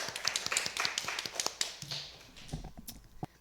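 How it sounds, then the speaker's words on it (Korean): A church congregation at a Sunday service gives a brief burst of scattered hand claps, the individual claps distinct and fairly close, thinning out and fading partway through. "하나님께 우리 영광과 감사의 박수 좀 올려드릴까요?"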